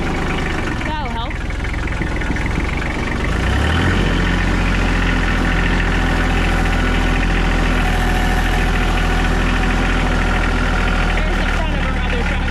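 A farm tractor engine idles on a dairy farm, a steady low rumble holding close and loud throughout after a brief shift in tone early on, with people talking over it.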